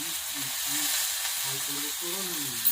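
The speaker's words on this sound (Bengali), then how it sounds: "কম তেলে যাতে ভালো ভাজা যায় তার জন্য বাটি দিয়ে দেখে ঝেঁকে ভাজছে" Fish fries in a small amount of oil, with a steady, soft, close sizzle running throughout while a person's voice talks faintly over it.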